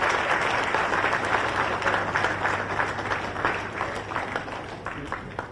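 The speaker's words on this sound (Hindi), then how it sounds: "जोरदार तालियों से आप सभी के लिए शुभकामना प्रेषित करें।" An audience at a ceremony in Ranchi claps loudly and continuously, a dense wash of applause that tapers slightly toward the end.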